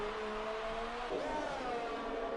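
Formula 2 race car engine in a racing video game, held at a steady high whine on a fast lap on hard tyres at the Mexican Grand Prix, with a brief pitch dip and rise partway through.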